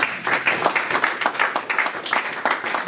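Church congregation applauding and cheering in praise during a sermon, a steady patter of many hands clapping in a roughly regular rhythm, fairly close and lively.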